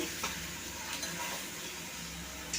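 Chicken kosha fries in a pan with a dense, continuous sizzle up close. Soft spatula scrapes and stirring sounds sit within the hiss.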